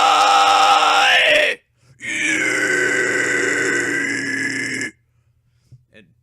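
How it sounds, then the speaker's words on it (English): A man demonstrates a vocal fry scream: two long, raspy, gritty growls from the throat, the first about a second and a half, the second longer after a short pause, loud and close, followed by faint small noises. "The vocal fry scream is the most simple form of scream you can do."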